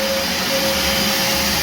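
A CRAFTSMAN wet/dry vac with weak suction runs steadily, giving a loud, constant motor whine and airy hiss with no breaks.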